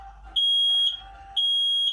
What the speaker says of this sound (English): Watch out for the smoke detectors.